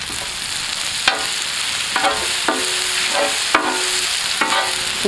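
Ginger garlic paste stirred and frying in a pan for chicken liver pollichathu, with a steady close sizzle broken by several distinct stirring scrapes at regular intervals, no talk.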